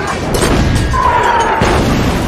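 Artillery fire in a Viet Minh war film battle scene, a loud, close blast with a crashing rumble and a whistling tone through the middle of the short burst.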